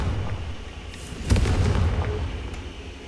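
In Hogwarts Legacy, a Confringo blasting spell goes off as a sharp, loud burst that settles into a rumbling decay over low background ambience.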